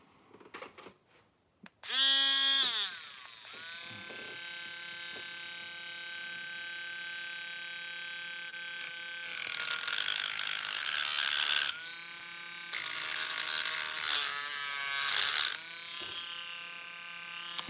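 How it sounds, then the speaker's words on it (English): Electric power tool grinding a part from an HPI Savage RC car, a loud buzzing whine that starts, runs steadily and surges in pitch and loudness in several bursts, with a few brief clicks. "So I'm literally just gonna grind this a little bit."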